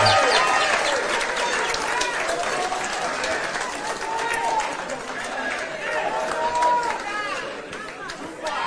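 Crowd applause at a Kenyan political rally, a broad continuous roar of clapping and cheering mixed with chatter and voices throughout, fairly loud and sustained.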